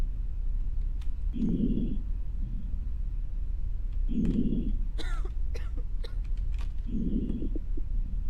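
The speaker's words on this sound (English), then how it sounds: "You're doing nothing but coughing." A man coughs in the video game Quarantine Zone: three separate harsh cough bursts spaced a few seconds apart, moderately loud over a steady low background hum, with faint beeps and clicks between.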